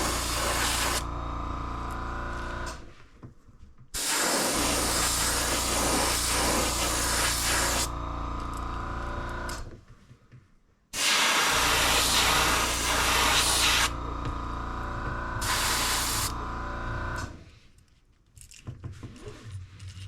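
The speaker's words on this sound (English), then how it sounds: "we're going to be painting this on a jerk bait" An airbrush sprays paint onto a jerkbait fishing lure in three long, steady hissing bursts separated by brief pauses, close and fairly loud with no talking.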